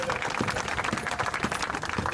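Audience applause in a church meeting hall in Yaoundé, a dense spread of clapping at moderate volume that carries on throughout.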